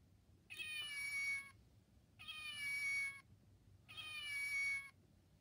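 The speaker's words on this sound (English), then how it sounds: "do we know what a cat sounds like?" A cat meows three times, each call long and drawn out with clear pauses between, heard close and alone over faint background hiss.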